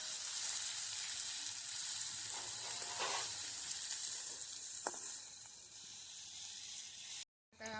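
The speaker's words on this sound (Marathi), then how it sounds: "कांदा चांगला परतून घ्यायचा आहे आपल्याला" Onion frying in a pan gives a continuous soft hiss and sizzle, a fairly quiet and even sound. A few faint clinks from stirring break through it, and it cuts off briefly near the end. Nobody speaks.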